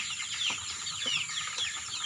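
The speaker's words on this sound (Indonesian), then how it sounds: "kemarin di sana itu ada anakan ayam kecil, itu ayam kampung asli." Native Indonesian village chicken chicks (ayam kampung) peep in rapid, high, bright chirps, close and steady over a faint background, with no talk.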